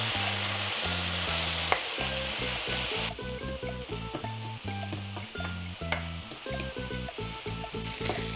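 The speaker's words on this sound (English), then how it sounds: "break it apart and look at that nice sear" Ground beef sears in a pan for a gorditas recipe, giving a steady loud sizzle with occasional scraping as it is broken apart, heard under rhythmic background music.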